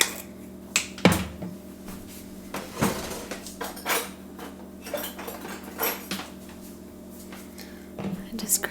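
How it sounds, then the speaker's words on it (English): A metal half-teaspoon measuring spoon is picked up amid other utensils while making banana bread. Soft clinks and scrapes of cutlery and dishes recur close by, with a faint whisper in places. "I just grabbed my half teaspoon thing just because it's right there"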